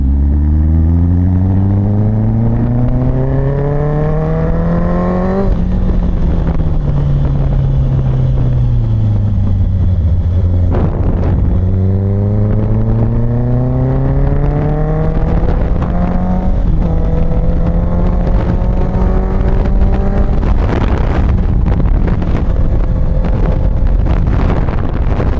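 A Royal Enfield Classic 650 engine revs up and down through gear changes as the motorcycle rides along, with heavy wind buffeting the microphone throughout.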